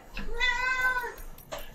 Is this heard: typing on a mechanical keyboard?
no